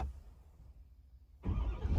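A 2026 Ford F250 pickup with a 6.7 diesel engine starts up after a quiet push-button moment, cranking into a rising, steady close rumble with no talk over it.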